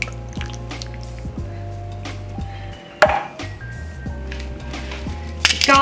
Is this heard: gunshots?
no